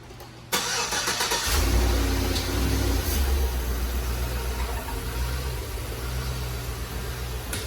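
A Bermuda Blue Chevrolet Suburban, checked for a leaking thermostat housing, cranks and fires after a short silence, then settles into a loud, steady idle with a rough, broad engine roar.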